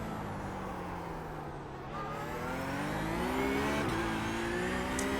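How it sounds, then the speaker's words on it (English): Car tires squealing at a long slip angle in the iRacing sim racing game, a sustained rising and falling whine over a steady engine drone, moderately loud and continuous with no voices. "you can hear the tires like the slip angle for a long time. They're crying"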